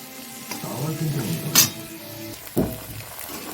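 A single egg being mixed in a bowl at home, soft stirring and scraping with a few light clinks and two sharper knocks against the bowl, close and fairly quiet.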